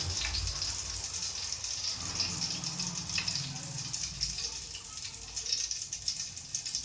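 Potato chips fry in hot oil on a stove over low heat, a steady soft hiss and bubbling crackle running alone at low level.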